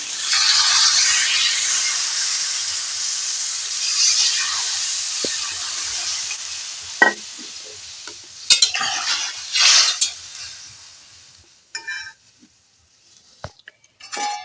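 Water poured into a pan of frying potato, pumpkin greens and snails sets off a hissing steamy sizzle that gradually dies down, followed by stirring and a few sharp clinks of utensils against the pan.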